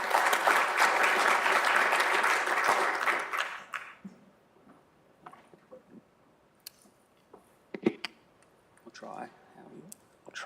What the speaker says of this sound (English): let's give a round of applause to Michael